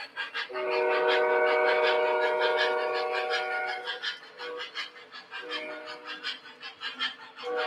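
Model toy train running around its track, a loud sustained whistle tone sounding over the rolling motor for several seconds, then quieter rhythmic chuffing and clatter close by.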